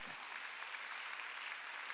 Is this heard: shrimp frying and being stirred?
no